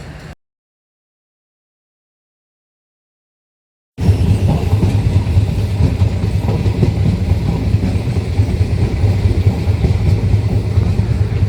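Passenger train travelling from Ferozepur to Jalandhar in Punjab rumbles loudly and steadily with rhythmic wheel clatter, beginning after a short cut and a few seconds of silence.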